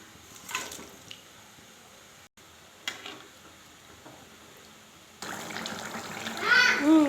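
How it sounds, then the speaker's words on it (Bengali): Pieces of fish slide into a simmering radish curry broth with soft wet splashes and squishes, followed by louder liquid bubbling and stirring, close by, with brief voices in the background. "ঝোল দিয়ে দিয়েছি, এখন দিয়ে দিব মাছগুলো।"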